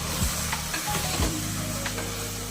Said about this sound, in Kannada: ಮಸಾಲೆ ಹಾಗೆ ಕಡಲೆಕಾಳು ಚೆನ್ನಾಗಿ ಫ್ರೈ ಮಾಡ್ಕೊಳ್ತಾ